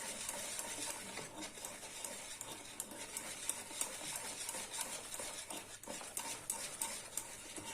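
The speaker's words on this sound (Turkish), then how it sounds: "Güzelce karıştıralım, karıştıralım. Kek hamuru kıvamını aldıralım." A spoon stirs green spinach cake batter in a bowl, giving soft continuous scraping and slapping strokes with occasional sharper clicks against the bowl, quiet and close, with no talking.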